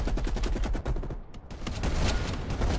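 Sniper and supporting gunfire in a Call of Duty Black Ops Cold War campaign firefight, a dense run of loud, close shots with rapid bursts, a brief lull midway, then renewed heavy fire.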